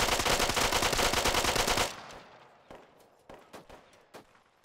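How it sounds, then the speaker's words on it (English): Automatic gunfire in the Arma 3 video game during a co-op mission: a loud sustained burst of rapid rounds cuts off sharply, followed by scattered single shots and short distant pops at lower volume. "Why the why are they shooting at us?"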